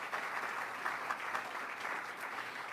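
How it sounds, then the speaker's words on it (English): An awards ceremony audience applauds, a full, even wash of clapping from many hands that continues without a break. "A big round of applause."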